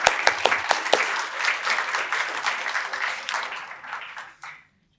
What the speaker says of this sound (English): Let's give these accomplished young women a round of applause once again.